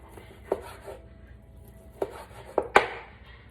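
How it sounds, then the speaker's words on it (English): A knife cuts through grilled skirt steak on a board, giving several sharp chopping knocks spaced irregularly, with a quick double strike near the end, close and fairly clear over a quiet room. "I'm gonna finish slicing this for you so I could show you"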